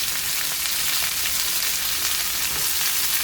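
Boiled, chopped banana flower fries in a pan with a steady, dense sizzle that holds loud and even throughout, with faint stirring scrapes and no voices.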